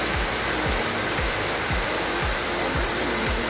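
Steady, loud broadband rush of the Cachoeira da Esteira waterfall near Pedro Lessa, Minas Gerais, where a river near the Jequitinhonha headwaters passes under a road, heard close up with soft low thumps recurring about every half second, no voices.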